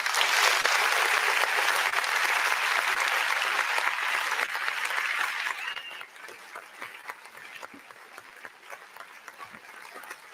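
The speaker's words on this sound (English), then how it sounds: "give a round of applause for Danger." An open mic night crowd breaks into applause, a dense wash of clapping that holds strong for several seconds and then thins out into scattered claps.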